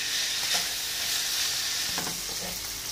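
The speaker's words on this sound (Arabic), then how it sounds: "دابا خوتي ها هي البصله والقرعه راهو متشحروا" Onion and squash fry in a pan with a bright, continuous sizzle, a few soft stirring scrapes rising briefly near the end.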